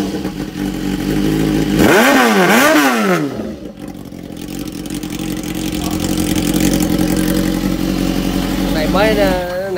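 A motorcycle with a modified, enlarged SC S1 exhaust revs loudly at close range, with a sharp rising and falling blip early on, then a steady rumbling idle and another rev near the end.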